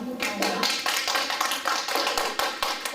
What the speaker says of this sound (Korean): 내가 하는 박수 한번 쳐봅시다